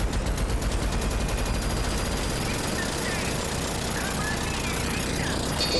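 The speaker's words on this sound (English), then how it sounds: "When its machine guns are active" Rapid machine gun fire from an enemy in the game Rage 2 runs steadily throughout, dense and continuous, with a constant mechanical whine under the bursts.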